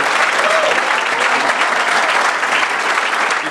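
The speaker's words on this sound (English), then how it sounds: "Give him another round of applause for the commitment, the partnership, and the rest." An audience applauds at a bank branch ribbon cutting, with dense continuous clapping close and loud for a few seconds and faint voices mixed in.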